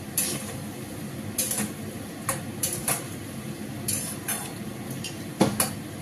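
Koftas with a spoonful of sugar are stirred in a pan, a spoon scraping and clinking against the metal in scattered bursts over a low background hiss, close by and moderately loud.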